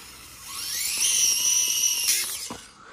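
The brushless motor of a Furitek Micro Komodo RC crawler whines at high pitch, rising quickly and holding a loud, steady tone before cutting off with a brief scrape near the end.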